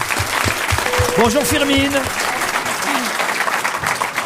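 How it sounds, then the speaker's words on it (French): A television studio audience at the Alpe d'Huez festival applauds an actress, dense steady clapping close by, while a brief greeting is spoken over it partway through. "Je vous demande d'applaudir la comédienne Firmin Richard."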